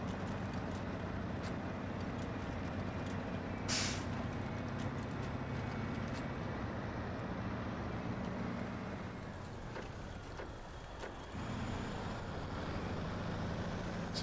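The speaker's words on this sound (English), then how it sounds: "So this engine's still running." A truck engine idles steadily in the SnowRunner video game, a continuous low rumble that dips briefly partway through before resuming, with no talk.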